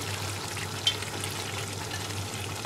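Onions, bell peppers and capsicum frying in a pan, a steady close hiss and crackle of sizzling with one brief tap partway through.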